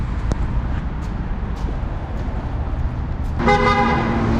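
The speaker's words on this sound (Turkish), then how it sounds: "devamlı kornaya basıyorlar burada" Busy street traffic in Beirut, Lebanon rumbles steadily, then a loud car horn blares near the end, sustained and close over the road noise.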